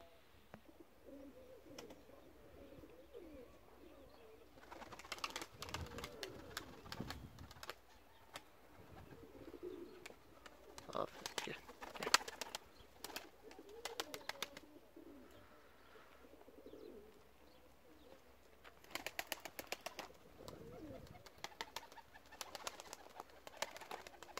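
Soft cooing from pigeons rises intermittently over a quiet background, with occasional fluttering and light rustling noises; faint and somewhat distant.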